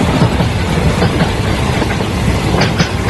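Cartoon sound effect of a moving train, a steady loud rumble with rhythmic clickety-clack of wheels on rails, continuous and close throughout.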